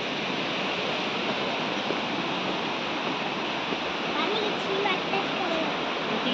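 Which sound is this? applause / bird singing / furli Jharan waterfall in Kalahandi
furli Jharan waterfall in Kalahandi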